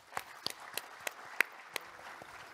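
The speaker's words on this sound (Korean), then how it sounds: "박수 한번 보내주시죠." A few scattered, separate hand claps from the audience at a forum opening ceremony sound faint and sparse against a quiet hall, with one sharper clap near the middle.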